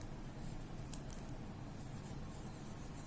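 A pen scratches on paper as adjacent angles are written out during a class 8 maths lesson on quadrilaterals: soft, continuous scraping at a low, even level over a faint background hiss.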